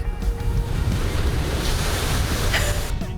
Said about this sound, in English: Stay dry and watch the waves crash from the tower in town.